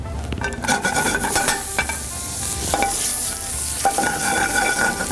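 Butter sizzles and fries in a pan as spaetzle is reheated, a steady crackling hiss with scattered stirring scrapes and clinks of utensils against the pan, close and fairly loud throughout.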